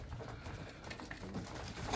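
Homing pigeons coo softly at home, a low murmuring burble running steadily under a faint background hum with no voices.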